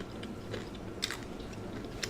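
Crisp crunching bites into fried gator pieces with batter and pickles, a steady loud chewing texture with sharp crackles near the middle and end, close to the mouth.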